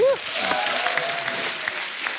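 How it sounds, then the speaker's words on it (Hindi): A studio audience at The Kapil Sharma Show, an Indian comedy talk show, breaks into a short burst of applause after a brief vocal sound at the start. The clapping stays fairly even and close for about two seconds. "जोरदार ताली हो जाए"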